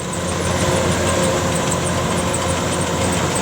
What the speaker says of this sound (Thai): การทำงานของเจ้า DC 105X ครับ